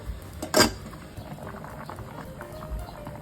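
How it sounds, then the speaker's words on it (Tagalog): Small potato pieces boiling in a pot, a continuous close bubbling and gurgling led by one louder burst of sputtering and splashing. "Lulutuin ko lang itong mga patatas hanggang sa maging fork tender siya."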